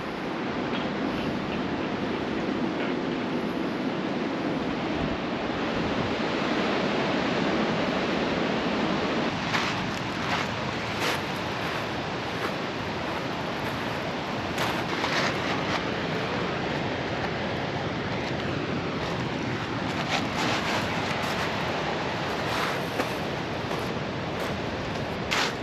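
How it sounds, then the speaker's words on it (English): Atlantic swell breaks at Freshwater West in Pembrokeshire, a steady, broad wash of surf and wind roar that continues without a break and never drops away. "That's the Atlantic out there. So all that swell from the Atlantic ends up here"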